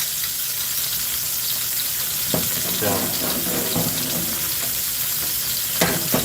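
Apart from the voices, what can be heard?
chicken pan sauce sizzling in pan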